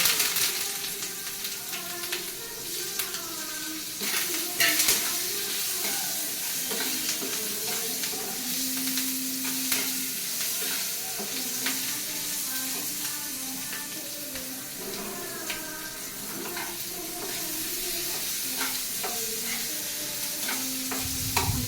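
Mustard seeds and onions frying in oil in a pan produce a long, continuous sizzle with repeated stirring scrapes and occasional clinks, close and steady throughout with no talking.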